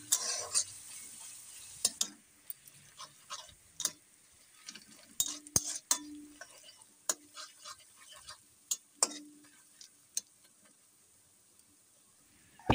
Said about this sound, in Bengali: পেঁয়াজটি যতক্ষণ ভাজবো একদম লাল লাল হওয়া পর্যন্ত পেঁয়াজটিকে ভাজতে হবে।